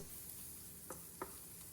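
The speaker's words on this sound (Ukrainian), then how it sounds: "На сковорідку всипте добрячу порцію меленого перцю і перемішайте." Ground pepper stirred into rendered fat in a frying pan while making pasta carbonara, with a steady faint sizzle and two brief scraping stirs of the utensil against the pan.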